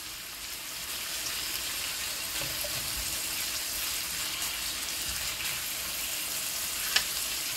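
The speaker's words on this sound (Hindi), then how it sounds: "नमक डाल के अब हम जो है इसको थोड़ा सा इसी तरीके से मिक्स करेंगे इसके अंदर उसी दरमियाने फ्लेम पे" Salted shrimp masala stirred in a pan over a medium flame, a steady close sizzle and frying hiss with faint scraping, one sharp click near the end.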